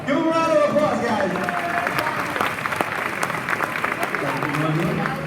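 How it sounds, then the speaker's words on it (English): A crowd at a university graduation ceremony applauds with steady, fairly loud clapping, with a few sharper claps and some voices mixed in under it. "give them a round of applause"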